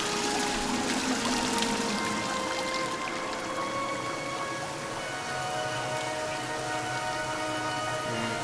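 Continuous rushing water by a stream in the video game Dear Esther, like a flowing stream or heavy downpour, steady and fairly loud with no voices.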